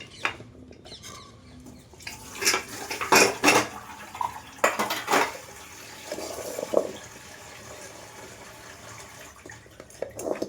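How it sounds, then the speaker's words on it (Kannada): Dishes, pots and pans being washed by hand in a home kitchen: clattering metal and ceramic knocks and scrapes come in bursts over a low background of running water, fairly close and moderately loud, with no talk. "ಆಮೇಲೆ ಈ ಮೊದಲು ಭಾಂಡೆ ತೊಳಿತೀನಿ."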